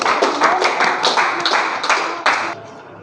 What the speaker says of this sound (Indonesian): kita beri sekali lagi tepuk tangan untuk kelompok 2